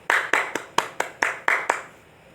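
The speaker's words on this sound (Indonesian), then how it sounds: "Beri tepuk tangan untuk kita semuanya." A class claps hands together in eight distinct, evenly spaced bursts over about two seconds, close and fairly loud, with no talking.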